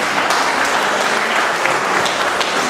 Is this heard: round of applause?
yes